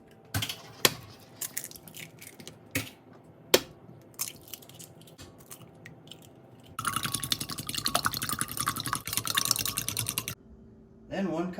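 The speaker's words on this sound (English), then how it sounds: "take 6 eggs and put them in a bowl and whisk them" Six eggs are whisked in a bowl for German pancake batter: a few scattered clinks and taps, then several seconds of quick, steady, quiet whisk strokes against the bowl.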